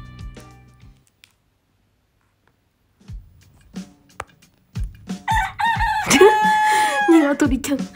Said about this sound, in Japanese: ニワトリちゃん